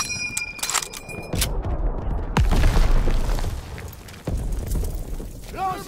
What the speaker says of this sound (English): That artillery's killing us!